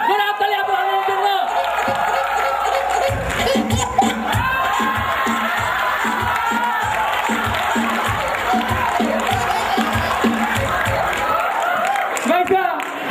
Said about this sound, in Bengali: জোরে হাততালি আব্দুল হান্নানের জন্য